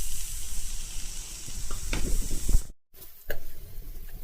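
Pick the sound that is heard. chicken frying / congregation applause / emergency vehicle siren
chicken frying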